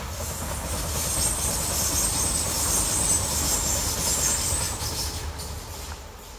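A train rumbles past on the tracks in rural Kent, England, a steady broad roar with hissing and faint rattling, fairly close, fading slightly at the end.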